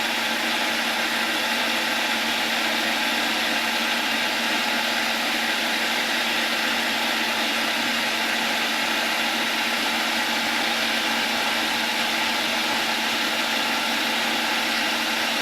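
A sausage stuffing machine pressing out Norwegian potato sausage runs with a steady, unbroken motor whine and hum, loud and constant throughout with no talking over it.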